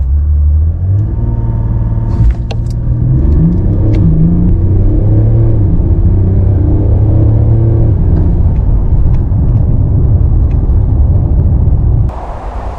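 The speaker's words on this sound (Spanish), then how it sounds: "pisamos freno y acelerador a fondo y a ver si somos capaces de igualar esos 5 segundos en la aceleración de 0 a 100" A Mercedes CLS 400d W257 diesel car accelerates flat out from a standstill in a 0 to 100 run. It is heard from inside as a loud, deep engine roar that rises and falls through the gear changes, then drops off near the end.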